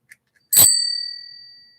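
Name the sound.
notification bell ding sound effect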